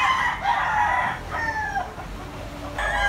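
A young gamecock, a bullstag, crows close by, three or four strained crowing calls in quick succession over faint background noise.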